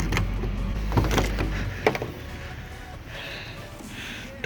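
A car door on a wrecked 2015 Jeep Wrangler opens with sharp clicks and clunks of the latch and hinges, followed by quieter rustling and faint handling noises.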